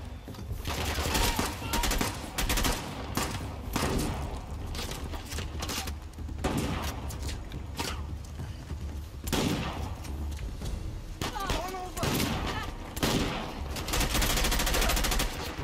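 Shotgun blasts boom during an exchange of fire in the video game Uncharted: The Lost Legacy, coming as dense, repeated bursts of loud shots with rattling gunfire and no pauses across the clip.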